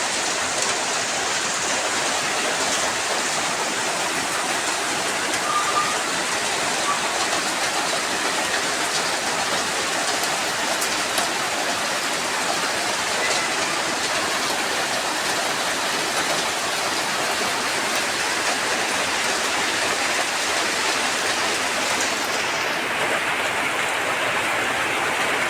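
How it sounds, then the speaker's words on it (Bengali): Steady rain falls outdoors in a continuous dense hiss, even and fairly loud for the whole stretch, with no voices. "রান্না করতে আসা পর বৃষ্টি শুরু হয়ে গেছে দেখুন।"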